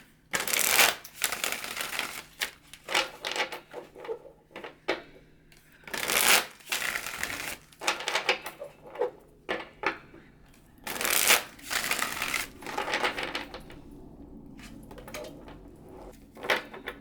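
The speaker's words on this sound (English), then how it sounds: "I will leave this card out and then shuffle and get the rest of the cards." Tarot card deck being shuffled by hand for a reading, with repeated riffling bursts and soft card slaps in an irregular rhythm, close and fairly quiet, with brief pauses between shuffles.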